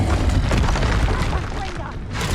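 A Reducto spell blast booms in combat in the video game Hogwarts Legacy, a dense loud rumble with a fresh burst at the end amid battle noise and voices.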